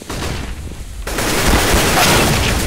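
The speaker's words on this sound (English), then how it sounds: "Throwing flashbang." A flashbang grenade goes off in CS:GO: muffled, quieter game noise gives way after about a second to a loud, sustained bright ringing wash that fills the rest of the moment.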